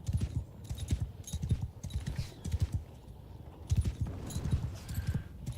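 Horse hooves clop in a rhythmic walking cadence in Mount & Blade II: Bannerlord during a castle siege, close and clear in short bursts with brief pauses between steps.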